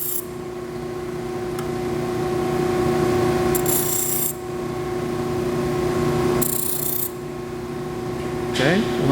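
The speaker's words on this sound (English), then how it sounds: "I'm just going to take that edge off of each side just very lightly with the grinder" An angle grinder lightly deburrs the welded edge of a saw blade, giving a steady motor hum with brief, harsher grinding bursts as it touches the metal, with someone talking.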